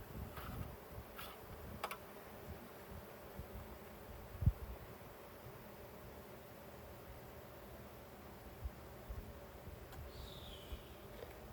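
Honeybees buzz in a continuous faint drone during a first-year beekeeper's hive inspection. Occasional light rustles and soft knocks from handling the frames sound nearby.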